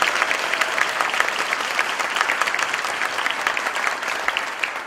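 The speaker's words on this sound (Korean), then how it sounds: "우리 언어팀 분들 위해서 다시 한번 박수 한번 해드리겠습니다." A church audience gives a worship band dense, steady applause at an evening service, sustained for several seconds without voices over it.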